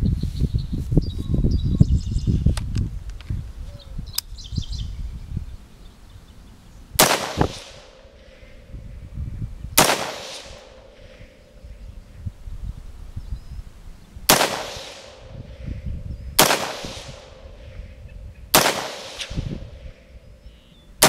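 Five or six pistol shots from a gun fitted with a JP Tactical compensator ring out sharply at uneven intervals after a stretch of rumbling outdoor noise, each crack followed by a short decaying echo.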